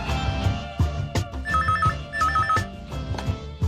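Telephone ringing in a Tamil television drama scene: two short bursts of an electronic trilling ring, clear over soft background music.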